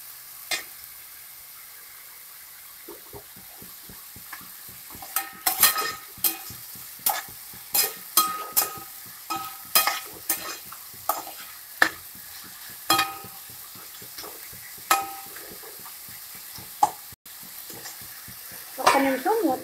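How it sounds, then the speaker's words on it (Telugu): Tomatoes cook down in a pan for a tomato egg masala rice, with a soft sizzle beneath repeated close scraping stir strokes that come in an irregular rhythm. "ఈ టమాటాని బాగా మగ్గనివ్వాలి।"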